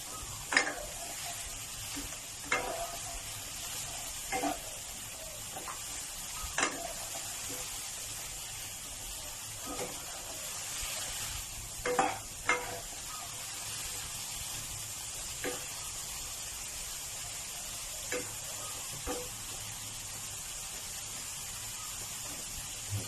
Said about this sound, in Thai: ผมก็จะใส่แตงกวาหั่นแครอท แล้วก็ พริกหวานเอาลงไปผัดก่อน